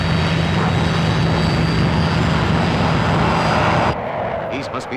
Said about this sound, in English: we have diverted these fighters and they are about to overfly the outskirts of this airfield